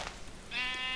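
A sheep in a modded Minecraft game gives a single short bleat in the second half, a nasal wavering cry after a faint quiet start.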